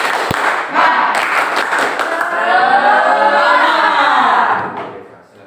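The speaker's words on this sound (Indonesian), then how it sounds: "Tepuk semangat." A classroom of students performs a rhythmic spirit clap cheer, a few sharp claps followed by loud, ringing group shouting that swells and then fades out.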